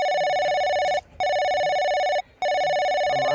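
A telephone rings loudly and close by with a steady electronic trilling tone, three rings separated by short silent gaps, with no voices over it.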